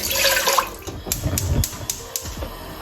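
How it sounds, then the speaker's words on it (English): Boiling water, about 400 ml, is poured into a saucepan, a close splashing, gurgling pour followed by clinks and clatter as the pan is handled. "Grab your boiling water, 400 mils. Pour it into your saucepan."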